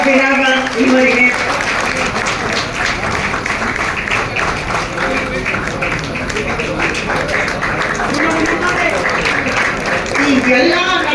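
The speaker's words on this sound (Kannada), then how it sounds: "ಜೋರಾದ ಚಪ್ಪಾಳೆ ಮಾಡಬೇಕು" Audience applause at a government high school's teacher-honouring ceremony, a steady wash of clapping lasting throughout with a voice speaking over it.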